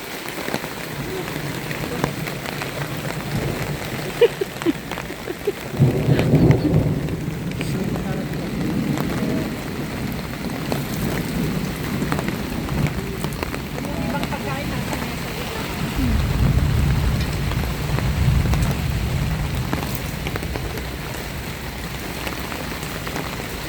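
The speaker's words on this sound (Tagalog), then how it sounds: "Ayan na naman ang kulog." Steady rain pattering on surfaces at a campground during a summer thunderstorm, with low thunder rumbles rolling in twice, and people talking quietly nearby.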